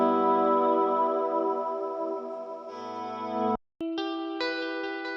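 Electric guitar played through a Fender Deluxe Reverb amp miked with an SM57 rings out in sustained, effect-colored chords, cutting off briefly before a new set of bright held notes resumes.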